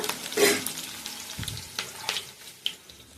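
Chopped ingredients frying in a pan before tomato goes in, with a soft sizzle, a few utensil scrapes and clinks, and a brief splash of water near the start.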